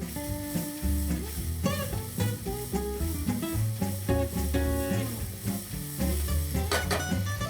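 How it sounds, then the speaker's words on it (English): Diced pancetta renders and sizzles in a pan with a steady, close frying hiss, largely covered by loud background music throughout. "You do not want to burn the pancetta. You just want to render in there,"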